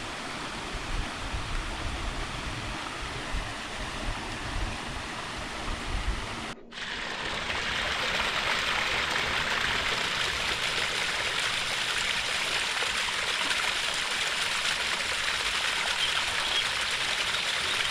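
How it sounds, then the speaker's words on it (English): A stream beside a path at Upper Roddlesworth Reservoir, near a small waterfall, flows with a steady, close hiss and rush, cutting out briefly partway through, then resuming a touch louder, with no voices. "And the sound of the water and the birds singing nearby."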